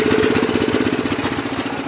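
A riding lawnmower tractor, low on gas, idles with a steady, loud, close mid-pitched engine drone and fast regular pulsing, alone without talk.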